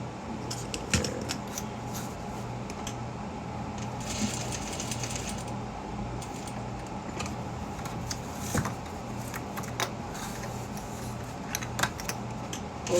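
A sewing machine runs a stay stitch on an eyeglasses case, giving a fairly steady mechanical whirr with needle rattle and occasional small clicks and pauses, close by.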